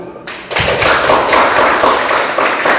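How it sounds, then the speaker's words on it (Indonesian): A group of students claps together after a class session, a dense burst of applause that starts abruptly after a brief quiet moment and continues steadily and loudly. "marilah kita memberi apresiasi dengan tepuk tangan untuk kalian semua"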